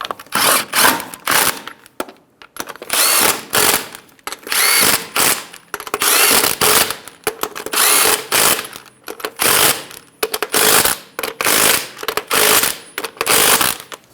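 Power tool buzzing in sharp repeated bursts as it snugs the wheel lug nuts on a 2010-2014 Subaru Outback after a front CV axle replacement, loud and close with short gaps between pulls.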